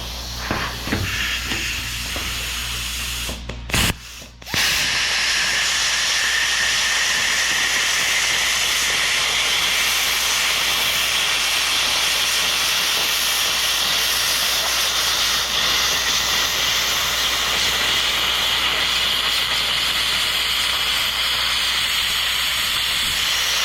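Metal ears being cut off a Ford 7.3 Godzilla engine give a loud, steady hiss that starts after a brief clatter and runs unbroken for the rest of the stretch, close by with no talking.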